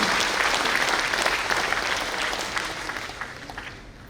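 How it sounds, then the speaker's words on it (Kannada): Hall audience clapping together in sustained applause at a building inauguration ceremony, a dense, even roar of hands that gradually tapers toward the end. "ದಯವಿಟ್ಟು ಅವರಿಗೆ ಕೈ ಚಪ್ಪಾಳೆ ಮೂಲಕ ಒಂದು ಅಭಿನಂದಿಸೋಣ, ಎಲ್ಲರೂ ಅಭಿನಂದಿಸೋಣ."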